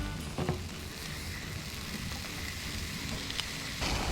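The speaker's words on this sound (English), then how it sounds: "Then we're gonna put our peppers on the side just to roast them up a bit." Jalapeno peppers roast on a Blackstone griddle, giving off a steady low sizzle and crackle, faint and even throughout, with a couple of small pops and a brief scrape near the start.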